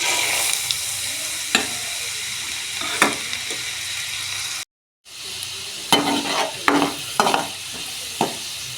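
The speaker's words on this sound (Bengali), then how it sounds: "মটর ডাল ভাজা আমার হয়ে গিয়েছে" Matar dal, dried split peas, frying and being stirred in a pan for homemade dal chanachur, a steady sizzle with intermittent scraping stirs, broken by a brief silent gap midway, then more frequent stirring strokes.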